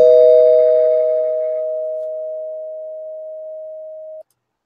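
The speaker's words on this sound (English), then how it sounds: "so I'm going to ring the bell" A single bell is rung as a podcast sound effect: one loud, clear, sustained ding that rings steadily for about four seconds, slowly fading before it cuts off abruptly, with nothing else around it.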